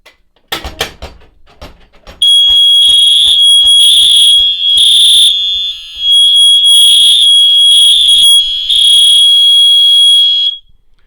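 A fire alarm triggered at an SD500PS pull station blares loudly in a steady, high-pitched pulsing tone for about eight seconds, with brief dips, after a few clicks from the station.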